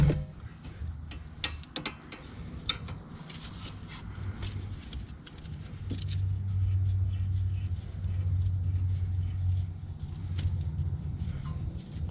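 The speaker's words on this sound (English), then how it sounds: "So we're going to take the 14mm and just loosen these." A 14mm wrench loosens the rear brake caliper bolts on a Nissan Altima, giving a few sharp metallic clicks and ratcheting ticks over a low, steady rumble, close by.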